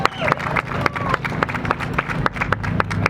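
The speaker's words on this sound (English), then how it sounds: "Give them a round of applause" Crowd at an outdoor freedom convoy rally clapping, a mix of sharp nearby individual claps and a looser spread of hands farther off, with murmuring voices underneath.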